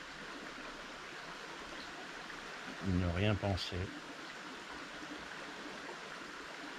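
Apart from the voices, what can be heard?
river stream flowing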